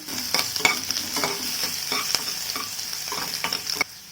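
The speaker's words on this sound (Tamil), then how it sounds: "கொஞ்சம் அடுப்பை கம்மி பண்ணிட்டு இது நல்லா எண்ணெயிலேயே வறுத்துக்கலாம்." Hill garlic cloves fry in oil over lowered heat for a chutney, giving a steady close sizzle broken by repeated sharp spatula scrapes and taps, with no voices.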